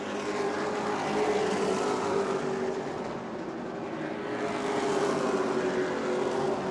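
Several race cars roar steadily around a short track during a family fun night in New Smyrna, a continuous loud engine drone with a faint pitch swell in the middle, no voices over it.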